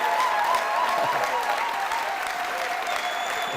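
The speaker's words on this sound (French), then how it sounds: "Donnons une bonne acclamation à celui qui est projet." Steady applause fills a church gathering as the congregation gives a rousing ovation, a dense continuous wash of clapping with faint tonal sounds in the background.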